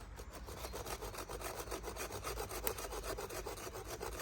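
Hand saw cutting through a tree stump near stone, a steady close rhythm of rasping back-and-forth strokes, evenly paced and continuous, with no voices.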